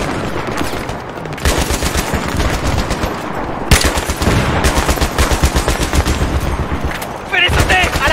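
Bursts of mounted machine-gun fire in Battlefield 3, loud and close, rattling in long sustained volleys with a brief pause midway and other gunfire layered in.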